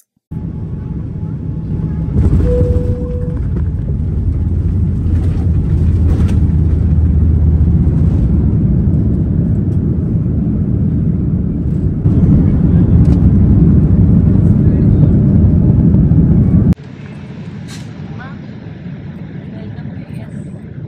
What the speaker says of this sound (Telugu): next we are about to land in US